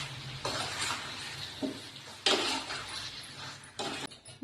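Marinated chicken is stirred in a pan with a spoon in several short scraping, sizzling bursts separated by quieter pauses, heard up close.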